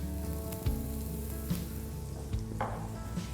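Finely chopped onions sizzle gently in a little oil in a pan, a faint steady hiss with a few light taps of stirring.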